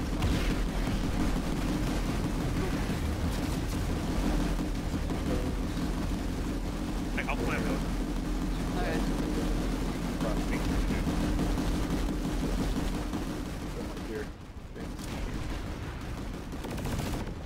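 Gunfire and turret fire pound away at a wall in a video game as a continuous, dense roar of overlapping shots, steady and loud for most of the stretch before dropping briefly near the end, with voices talking faintly beneath.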